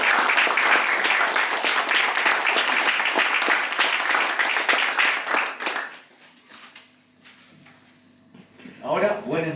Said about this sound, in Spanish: un aplauso para Carmen Berenguer.